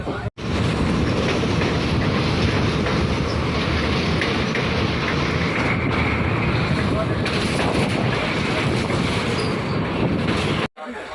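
Passenger train running on rails, heard from a window seat inside the carriage: a loud, steady rumble and wind roar fill the whole stretch, with a brief drop near the start and another near the end.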